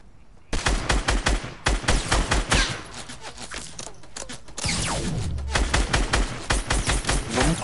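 Enemy gunfire in a PS4 shooter game, loud sustained automatic bursts of rapid shots close by, breaking off briefly and resuming, with a faint voice underneath.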